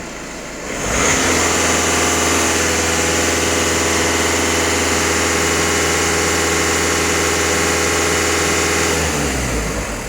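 A Volkswagen Passat 2.0 TDI diesel engine runs steadily at raised revs, a loud, continuous close-up drone held for several seconds before dropping away at the end.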